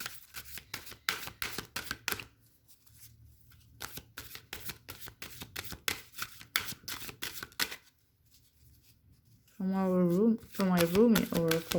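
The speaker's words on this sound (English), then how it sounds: "I'm gonna pull out a Rumi card for you." Rumi oracle cards are shuffled in a rapid run of crisp, close riffling clicks, pausing midway and then resuming. A voice begins talking toward the end.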